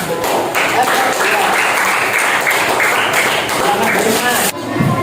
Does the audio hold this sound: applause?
yes